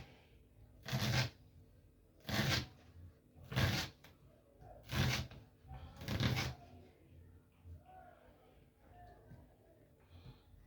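A knife cuts vegetables into a fine brunoise dice with five firm, evenly spaced slicing strokes close by, followed by quieter rustling and light board sounds.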